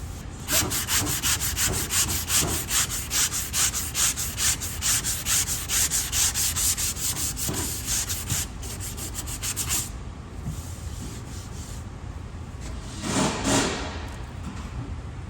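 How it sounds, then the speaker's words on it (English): Body filler on a damaged Dodge 392 Scat Pack is sanded by hand in fast, even back-and-forth strokes, a loud rhythmic scratchy rasp close by for about ten seconds, then slower, quieter rubbing with one more stroke burst near the end. "So we gotta sand all that thing down."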